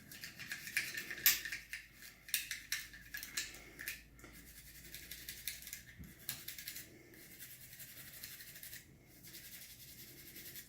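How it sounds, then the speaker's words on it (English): A toothbrush scrubs a pistol action coated in essential oil, giving close, dry bristle rubbing in irregular bursts and short strokes. It is fairly quiet, with brief pauses and no talk. "watching me scrub my firearm with a toothbrush is probably boring"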